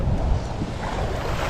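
Gusty wind rushes over open water during cast net fishing for shiners, a loud, steady roar of buffeting microphone noise with faint surf underneath.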